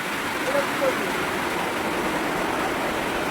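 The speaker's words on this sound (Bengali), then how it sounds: "এই জল আর ঠেকানো যাবে না ও ঘরে জল ঢুকবে" Floodwater rushing toward a house as people dig with spades to hold it back; a loud, steady broadband roar of moving water fills the whole clip, with faint voices underneath.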